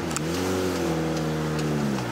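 A turbocharged 2000 Toyota MR2 Spyder with a 2ZZ-GE engine running 10 psi of boost accelerates hard, a loud, steady engine drone rising in pitch for about two seconds with no voices.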